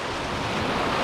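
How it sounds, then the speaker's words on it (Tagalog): Rough sea waves surge and break in a steady, loud wash of broadband noise with no pause, the churning water filling the whole second. "Ganito yung dagat magwala."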